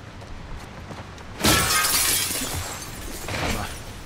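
Glass shatters loudly in The Last of Us Part II, a sudden crash of breaking panes followed by scattering shards and a second smaller burst near the end, against quiet game ambience.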